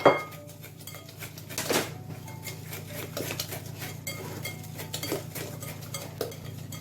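Eggs and sugar whisked together in a bowl for a homemade flan pâtissier, a steady close scraping and clinking of the whisk against the bowl with a few sharper knocks and no talk.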